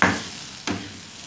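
Onion, tomato and spices frying for egg bhurji get stirred in a pan, with two brief scraping stirs over a low steady sizzle, close and fairly quiet.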